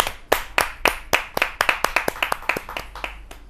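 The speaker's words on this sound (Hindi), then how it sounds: "जोरदार तालियों से उनको आमंत्रित करना चाहता हूं" An audience at a Hindi kavi sammelan claps to welcome a woman poet onto the stage, sharp close hand claps starting sparse and quickening into a steady, denser patter without voices.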